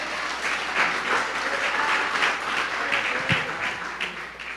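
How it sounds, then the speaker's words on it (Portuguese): Congregation in a Nova Vida church service in Catete applauds the Lord, a sustained, even roar of many hands clapping for several seconds, fairly loud and close with little talk over it. "Dê uma salva de palmas ao Senhor."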